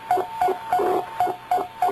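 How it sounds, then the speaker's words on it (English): A beeping signal on a sideband radio receiver tuned to 4717, coming in strong: six short, evenly spaced tone pips over a steady hiss of static, with no voices. "I heard a beep, beep, beep in the background."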